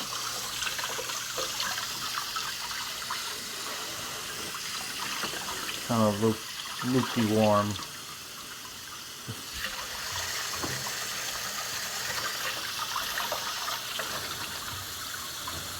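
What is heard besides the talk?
water poured into a container to soak dug cans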